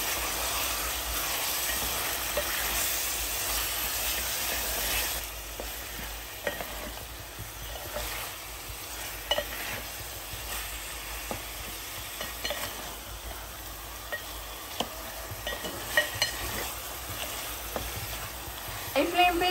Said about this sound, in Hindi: गोश्त डालने के बाद अच्छे से भूनिए इसे हाई फ्लेम पे।